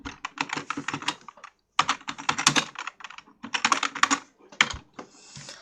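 Someone types a title on a computer keyboard in quick, clattering bursts of keystrokes, with brief pauses between runs.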